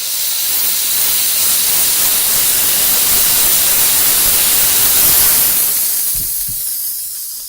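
A Chief steamer blasts a loud, continuous hiss of steam close up while it lifts tree sap off a car's clear-coated paint, tapering slightly at the end.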